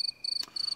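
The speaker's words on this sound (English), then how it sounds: "Crickets." Crickets chirp in three rapid, pulsing trills, high-pitched and fairly close, with a faint soft thump between them.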